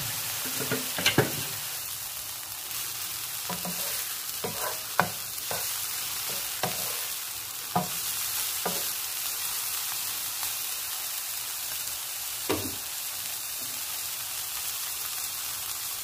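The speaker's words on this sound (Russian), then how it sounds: "Добавляем баклажаны и готовим до золотистого цвета." Eggplant frying in olive oil in a pan: a steady hiss and sizzle runs throughout, broken by scattered louder pops and stirring clatters.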